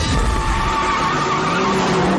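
A car tearing away from a standing start with screeching tires, a loud sustained squeal over revving engine noise that holds for about two seconds, close and dominant.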